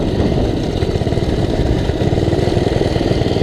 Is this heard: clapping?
no